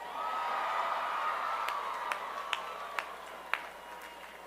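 An outdoor audience at a University of Oregon commencement address cheers with a broad, steady wash of crowd noise, and a few sharp claps or whoops rise out of it toward the end.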